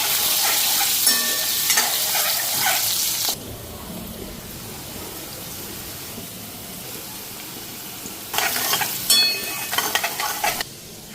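Sweet pumpkin frying in a pan on a home stove: a loud, steady hiss of hot oil that softens midway, then flares up again with bursts of crackling as the pieces are stirred.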